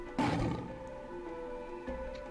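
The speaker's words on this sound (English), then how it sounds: "We just hear a roar, nothing happens" Deep creature roar from the video game Moon Hunters, one loud rumbling burst near the start that fades into a low droning tone, with a softer thud near the end.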